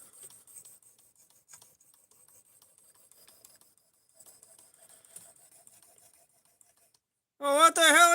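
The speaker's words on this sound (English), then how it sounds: "Suresh, you can sharpen a knife fairly quickly" An S90V steel knife is sharpened with faint, soft rasping strokes at irregular intervals, with a tonal whine and a voice breaking in loudly near the end.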